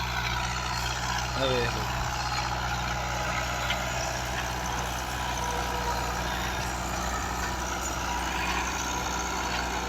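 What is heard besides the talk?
Fiat 640 tractor engine pulling a 9-tine plough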